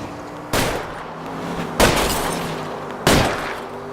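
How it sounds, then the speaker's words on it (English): Three loud gunshots fired at a fleeing suspect's car tires in LA Noire, evenly spaced about a second and a quarter apart, each a sharp crack with a lingering echoing tail over a low engine drone. "I'll try to shoot out his tires."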